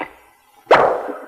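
A sound-effects instrument imitating a champagne cork popping gives one sharp, close pop followed by a short trailing fizz, with a second small burst just after, in a 1941 production.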